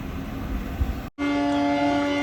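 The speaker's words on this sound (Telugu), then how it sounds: "ట్రైన్ అయితే స్టార్ట్ అయిపోయింది" A passenger train departing from Puttaparthi for Bengaluru sounds a steady horn, loud and close, cutting out briefly then resuming strong over the rumble of rail cars.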